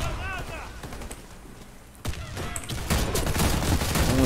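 Gunfire in the online shooter Warface: bursts of rapid automatic fire and sharp single shots, loud and close, with a brief lull before firing resumes heavily.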